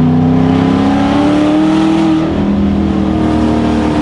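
A New Edge Ford Mustang engine rumbles steadily at close range among trees, holding a deep, throaty idle with a slight rise and fall in pitch, no voices.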